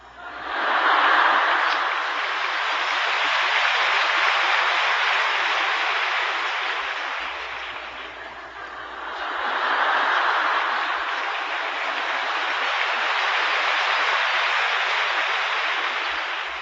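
An audience at a lecture on laughter therapy claps continuously in two long swelling waves, a dense and fairly loud clatter with a brief dip in between and no voices.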